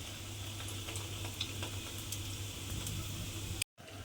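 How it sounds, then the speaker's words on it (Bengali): Fish roe koftas fry in oil over a low gas flame, giving a steady, even sizzle that runs without a break, with a faint low hum beneath and a brief dropout near the end. "সেই জন্য কিন্তু আমাকে গ্যাসটা লোতে দিয়ে কোপ্তাগুলো ভালোভাবে ভেজে নিতে হবে"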